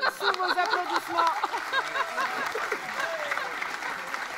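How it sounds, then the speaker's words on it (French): Audience applause at a regional sports merit awards ceremony, a dense steady patter of clapping hands that carries on throughout with voices and crowd murmur mixed in. "Avec le capitaine, sous vos applaudissements."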